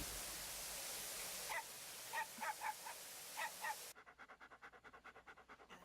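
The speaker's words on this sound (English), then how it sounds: "No, Hayate. Bad dog." A dog in the anime Fullmetal Alchemist Brotherhood pants in quick, rhythmic, close breaths over the final two seconds, after a hissy stretch dotted with a few short chirpy sounds.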